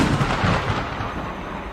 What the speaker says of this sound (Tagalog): Isang malakas na kulog ang dumagundong